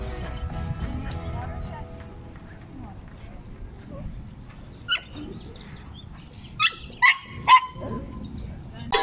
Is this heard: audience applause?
no